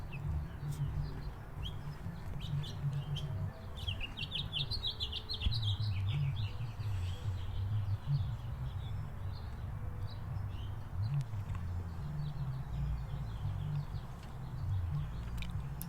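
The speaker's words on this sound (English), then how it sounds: "The birds and the very slight breeze." Birds chirp and tweet steadily outdoors, the calls light and scattered over a soft, constant low rumble of slight breeze, with no talking.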